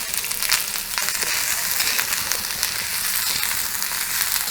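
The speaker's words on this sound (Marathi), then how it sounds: "तेल थोडं गरम झालं की हा कांदा चांगला असा ब्राऊन कलरवर भाजायचा" Onion fries in hot oil, browning toward dark brown for a Khandeshi mutton curry, giving a steady, dense sizzle with faint crackles heard close and alone.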